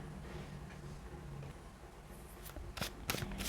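Tarot cards shuffled by hand in a short, close riffling run that crackles in quick bursts, clearest near the end, with no talking.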